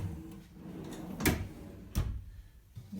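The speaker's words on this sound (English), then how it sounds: "So got some drawers here, nice smooth drawer slides" A drawer on smooth slides in a tiny house rolls open and shut, giving two sharp knocks about a second apart over quiet room noise.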